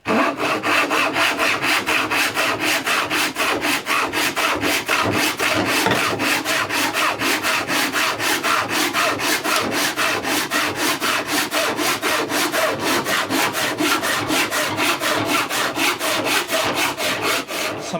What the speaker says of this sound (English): So I'm just going to go ahead and saw this